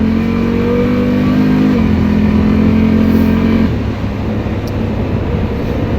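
A Honda Rincon 650 ATV pulling hard in a high-speed run, its engine droning loud and close with rising pitch, then a gear shift drops the tone before it climbs again, with no talking.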